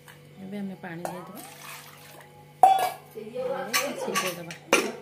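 Water poured into a pressure cooker of cut sweet potatoes in a home kitchen, splashing bursts with clanks of metal cookware, heard between stretches of someone talking.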